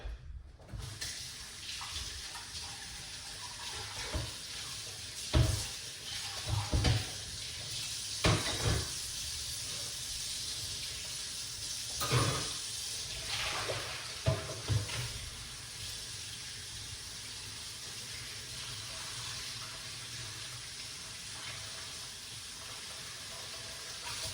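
Tap water running steadily over pomegranates in a kitchen sink while they are washed, a continuous faint hiss with occasional louder splashes and rubbing sounds as the fruit is handled.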